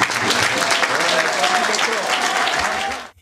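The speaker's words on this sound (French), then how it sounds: "je vous demande d'applaudir" Applause from the audience at a political party congress in Congo, a loud, dense wash of clapping with faint crowd voices mixed in, cutting off abruptly at the end.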